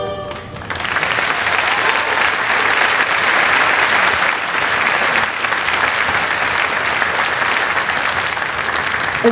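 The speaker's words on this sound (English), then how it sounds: "Let's give one more hand of applause." Loud, sustained applause fills a high school graduation ceremony, a dense crowd clapping steadily from start to finish with no voices rising above it.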